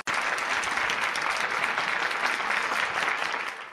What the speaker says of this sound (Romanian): să te aplaudăm